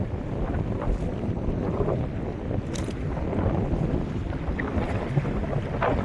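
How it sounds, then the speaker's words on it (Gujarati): Gusting wind buffets the microphone over choppy waves on open water from a fishing outing as rain approaches, a steady, close roar that rises and falls without any talk. "પવનની છીકી આવી એટલે મોજો થવા માંડ્યો"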